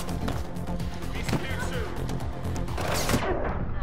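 Rapid gunfire in the Mirror's Edge Catalyst video game, with shots coming through a vent, bursts of sharp repeated cracks mixed with game noise, while a player talks over it.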